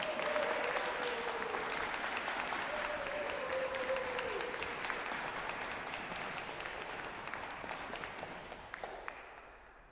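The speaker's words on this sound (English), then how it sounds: "can I just get another round of applause for the finance team?" Congregation at a church annual meeting applauds the finance team in a long, dense round of clapping with a few cheers early on, slowly tapering off to scattered claps near the end.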